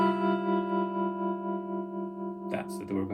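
Electric guitar played through a Brit Blues amp with light tremolo, sustaining a chord of doorbell-chime notes that shimmers and slowly decays, then a few brighter plucked notes and string noise near the end.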